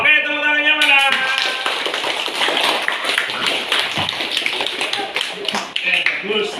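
Students clapping their hands in a classroom, a dense burst of many quick claps that continues for several seconds after a brief voice at the start.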